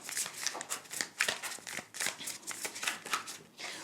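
Tarot cards are shuffled by hand in quick, rapid riffling bursts, close and fairly quiet, with no speech.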